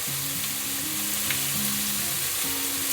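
Ground beef with barbecue sauce and garlic sizzles steadily in a hot pan as it is stirred, a dense, continuous frying hiss with faint scraping underneath.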